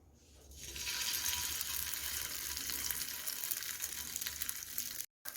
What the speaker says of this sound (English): This is what they look like on the griddle.